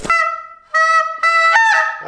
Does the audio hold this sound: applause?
no